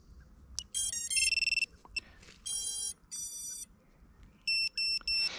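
A series of bright electronic beep tones in short bursts and sequences from a quadcopter starting up after its battery is connected, fairly loud and close, separated by brief gaps of quiet background.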